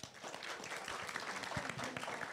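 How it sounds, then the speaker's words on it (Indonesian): Applause from an audience at a talk, a faint, scattered round of clapping that carries on steadily in the background of the room. "kita beri tepuk tangan lagi teman-teman semuanya"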